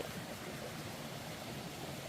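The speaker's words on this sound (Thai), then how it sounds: "น้ำไหลซะด้วย" Clear stream water flows steadily outdoors in dry countryside, a soft continuous wash of broadband noise with no voices.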